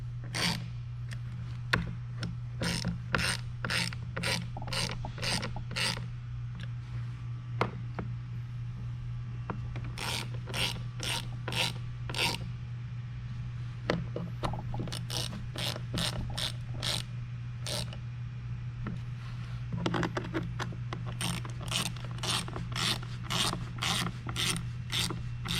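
Bolts being snugged up by hand while installing a Onewheel+ XR tire, heard as repeated quick bursts of ratcheting clicks in groups, close and fairly loud over a steady low hum, with no talking.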